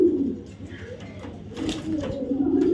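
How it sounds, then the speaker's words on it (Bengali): Racer pigeons coo nearby in low, throaty repeated calls, a few overlapping rolls of sound over a soft background. "কবুতরের ডাক মাশাআল্লাহ একদম 100 ডাক।"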